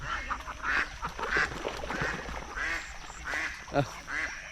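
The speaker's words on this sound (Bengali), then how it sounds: "ও কি সুন্দর হাঁসের ডাক" Several ducks quacking repeatedly in a lively, overlapping chorus on water, fairly close, with a louder honk near the end.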